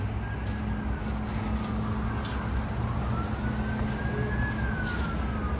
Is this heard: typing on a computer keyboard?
no